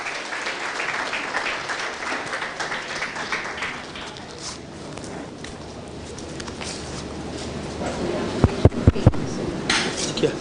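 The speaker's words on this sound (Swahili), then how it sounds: "Makofi kwa Rukia" Audience applause at a Kenyan awards ceremony honouring influential Muslims, a sustained crowd clapping that swells toward the end, with a few sharp knocks near the close.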